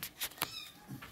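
A cat gives a few short meows, close and fairly quiet, with brief pauses between calls against a quiet room, no talking.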